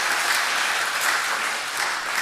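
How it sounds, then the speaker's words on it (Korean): Church congregation applauding during a Sunday evening worship service, a dense, steady wash of many hands clapping at close range throughout, with no voices rising above it. "우리 박수 한번 또 합시다."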